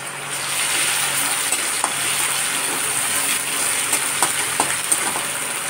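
Onions frying in oil in a pan with garlic being added: a steady, loud sizzle throughout, punctuated by a few light clinks and taps of stirring, with no voices.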